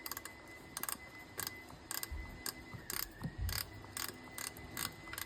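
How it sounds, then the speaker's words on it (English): A small 10mm ratchet tightens a supercharger manifold bolt on a Jeep Wrangler, giving quick bursts of crisp pawl clicks in repeated short strokes with brief pauses between, close up against a steady faint background hum. "put the spanner into place, and now I'm ratcheting it"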